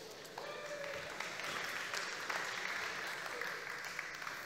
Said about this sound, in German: Ein Applaus für Kaffeemacher